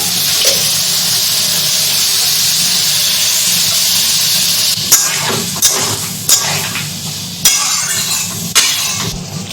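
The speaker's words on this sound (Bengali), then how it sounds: "মধ্যে এবার দিয়ে দেবো ব্রকলি ডাঁটাগুলো" Broccoli stems are added to a cooked spice masala in a pan, with a loud sustained hiss of frying followed by several sharp clinks and scrapes of stirring, no voices.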